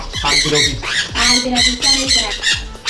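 Loud, close squawking from several African lovebirds, rapid harsh calls overlapping in quick bursts without pause.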